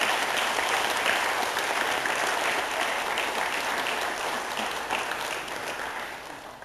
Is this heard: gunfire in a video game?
no